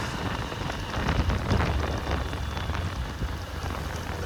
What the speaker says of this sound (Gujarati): ધીમો ધીમો વરસાદ પણ શરૂ છે.